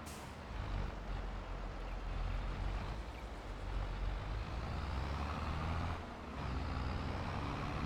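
A car drives past in a farming simulation game, a continuous broadband engine and road rumble that swells, dips briefly, then returns, steady and fairly close with no voices.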